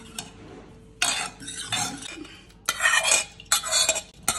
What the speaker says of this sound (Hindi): अब मैं इसको इसे चलनी में छान के तैयार करती हूँ।